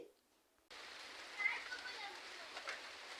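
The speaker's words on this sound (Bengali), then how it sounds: "এই যে 1 মিনিটের মধ্যে এই যে বৃষ্টি নেমে গেছে" Steady rain hiss of a sudden downpour begins abruptly after a brief quiet moment and then continues evenly, fairly close, with a faint voice underneath.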